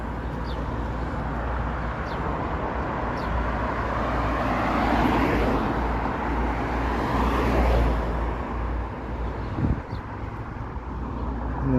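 Street traffic passes along a car-centric Toronto road, a steady close wash of engines and tyre noise with gusts of wind on the microphone, swelling as vehicles go by.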